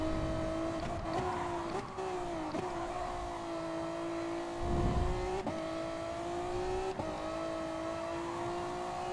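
A race car engine in Gran Turismo Sport, held at a steady high whine with small dips at each gear shift and one brief rumble midway, loud and close with no talk.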